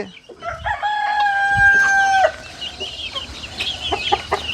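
A native country rooster crows loudly once, nearby, while hens of mixed ages, two to four months old, cluck and chatter softly around it before and after.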